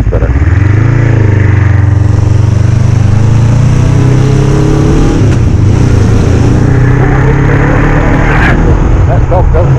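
A Znen 125 TE motorbike engine runs steadily and loud close by, its low drone holding an even pitch with a slight rise early on and a continuous rough hum throughout, with no speech over it.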